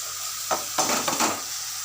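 Tomatoes sautéing and stirred in a pan for a mushroom omelette gravy, a steady close sizzle with a few louder scraping stir strokes, no talking.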